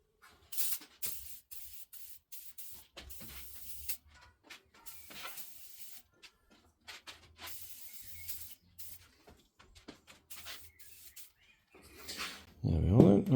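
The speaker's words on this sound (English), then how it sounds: "I'm just going to give them a light misting of WD-40." Short hissing bursts of WD-40 aerosol misted onto machined engine surfaces of a Honda B20 VTEC block, several spaced sprays of moderate loudness with a louder clatter at the end and no talking.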